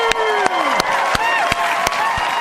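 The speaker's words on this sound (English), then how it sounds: "Everybody's clapping because they're so happy" An audience claps in a slow, regular rhythm of single sharp claps, loud and close, while a whistling tone slides downward and a bright crowd noise hangs behind.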